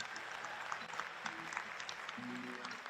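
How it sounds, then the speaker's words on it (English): A crowd at a high school scholarship night gives a round of applause, a soft, distant patter of clapping that carries steadily throughout, with a brief murmur of voices near the end. "Let's give him a round of applause."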